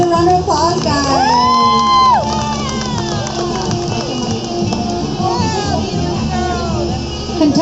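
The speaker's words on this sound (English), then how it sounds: "Give her a round of applause, guys." Crowd at the Eddie Cochran Memorial Car Show contest in Bell Gardens, California cheers and whoops loudly, with shouts and excited voices, including children's, rising over one another close to the microphone.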